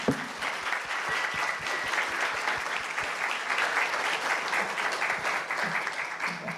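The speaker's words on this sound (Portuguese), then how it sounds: "Queria pedir mais uma salva de palmas para o Haroldo aqui" Steady applause from a lecture audience, many hands clapping evenly and continuously in a hall with no break or voice above it.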